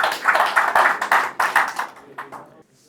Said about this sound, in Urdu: زوردار تالیاں ہو جائے.